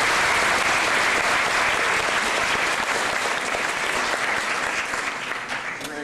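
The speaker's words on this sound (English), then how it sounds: "Please give him a round of applause." An audience applauds a guest speaker, Mr. Darwin Keeley, at a Toronto event: dense, steady clapping from a large crowd, loud and sustained throughout, tapering slightly at the end.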